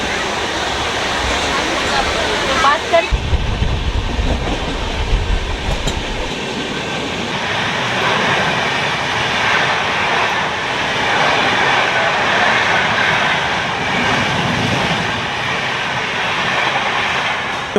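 A train moves along platform 4 of a Kolkata railway station, a loud low rumble and clatter early on that settles into a steady roar.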